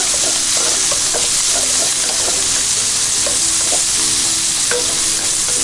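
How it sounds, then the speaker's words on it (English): Pancetta and garlic sizzle loudly in a pan over steady hiss, with a spoon scraping and stirring in a loose rhythm, close up and without voices. "the pancetta gets like this, add in your garlic"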